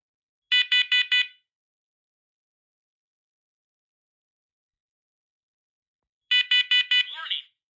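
Home smoke detector alarm under test, two bursts of four sharp, loud electronic beeps separated by several seconds of silence, the second burst trailing into a brief voice.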